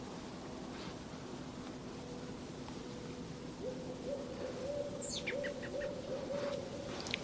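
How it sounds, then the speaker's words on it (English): Owls hooting in a Midwest woodland during whitetail rut season, a faint, steady low hoot repeating in the distance while brief bird chirps sound over a constant outdoor hiss. "Got some owls ripping. I always love to hear that."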